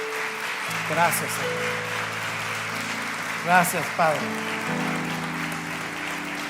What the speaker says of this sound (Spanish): Dale un fuerte aplauso a nuestro Dios esta mañana